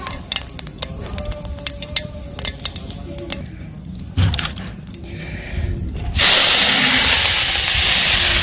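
Cumin and radhuni dropped into hot oil in a village kadai. The steady hiss starts out intermittent, then swells into a loud, continuous sizzle near the end.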